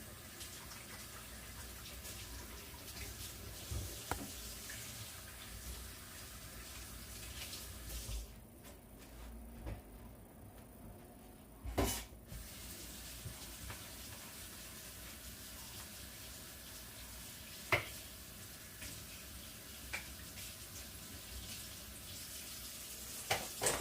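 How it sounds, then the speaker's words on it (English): Running tap water pours steadily while hands are washed at a kitchen sink during feta puff pastry cooking, a continuous soft splashing with a brief quiet gap and occasional small clinks. "Wash my hands again."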